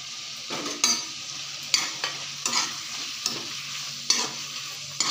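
Tomatoes fry in a pan for tamatar chaat, a continuous close sizzle broken by regular scraping stirs of a spoon against the metal, roughly one stroke per second.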